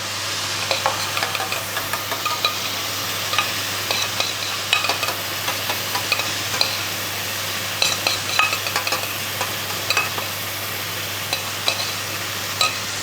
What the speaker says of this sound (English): then the curry sauce gets added